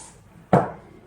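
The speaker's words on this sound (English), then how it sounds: "you spray it quickly with some hairspray" Two quick bursts of hairspray hit photographic paper treated with alcohol, a long loud hiss followed by a second short spray cut off at the end, in a quiet room.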